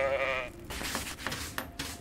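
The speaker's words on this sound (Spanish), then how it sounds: "Viene una cabra." A goat bleats in the Goat Simulator 3 video game, one short wavering cry that cuts off abruptly and gives way to busy clattering game noise.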